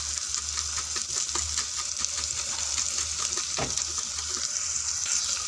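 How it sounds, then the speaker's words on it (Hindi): Food roasts in a pan while samak rice pulao is cooked for a fast, giving a steady moderate sizzle with light stirring scrapes over a low background hum. "अब इसे भून लेते हैं"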